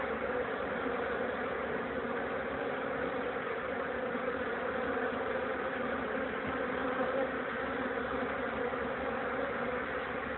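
Honeybees buzz at a hive in an apiary, a steady, dense drone that continues without a break throughout.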